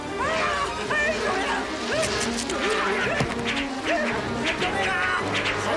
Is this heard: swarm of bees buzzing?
yes